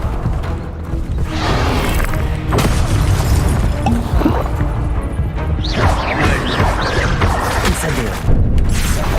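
An Incendio fire spell is cast in Hogwarts Legacy, with loud bursts, crashes and booms over dense, continuous game noise, and a voice shouting spell names.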